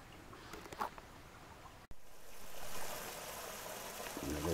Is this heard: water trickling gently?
yes